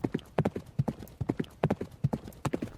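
Horses walk with hooves clip-clopping in a steady, repeating rhythm of sharp, close knocks, several paired beats each second, with no other sound competing.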